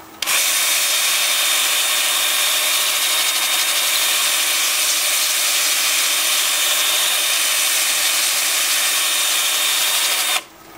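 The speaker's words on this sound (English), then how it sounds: "So the lathe is spinning forward, my drill is spinning forward." A wood lathe turns pepperwood while a drill spins against it, a loud steady high-pitched whine with a constant tone that runs unbroken for about ten seconds, then cuts off.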